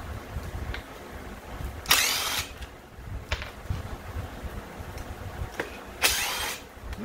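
Power driver with a T27 bit backing screws out of a Stihl trimmer housing, two short bursts of whirring about four seconds apart, close and fairly loud over low handling noise, no talking.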